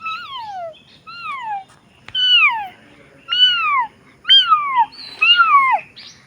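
A person imitates a kitten's meow, six high, clear descending mewing calls with short pauses between them, close and fairly loud over a quiet background.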